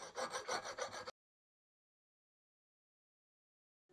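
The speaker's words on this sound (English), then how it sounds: "these bushings are very long, so I'm flattening them to the carrier with a file" Hand file flattening long Porsche 356 suspension bushings against the carrier, about a second of brisk rasping back-and-forth strokes, close and distinct, then silence.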